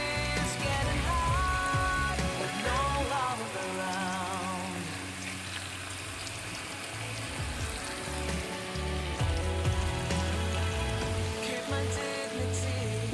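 Hot oil sizzling steadily in a cooking pot while rice is prepared, a continuous crackling, spattering hiss like rain on a surface, fairly close, with some clinking and faint background tones, no talk.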